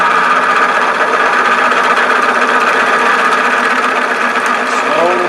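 A wood lathe cuts into a wooden medallion ornament with a steady, loud whirring drone that holds throughout, running near and alone with no voices.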